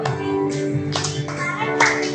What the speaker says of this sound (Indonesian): Boleh tepuk.